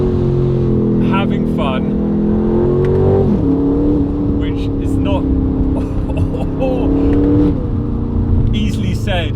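A 2026 Aston Martin Vantage S engine drones loud and close from inside the cabin as it accelerates, pitch climbing through gears with two shift dips, while a person talks over it.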